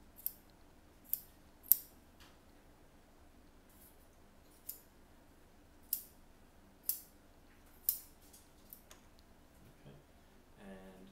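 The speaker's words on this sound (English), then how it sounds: "I always like to cut along the seams that we've made" Scissors snip through thermoplastic splint material for a finger DIP joint splint, heard as a series of sharp, isolated clicks spaced irregularly over a quiet room background, close and crisp.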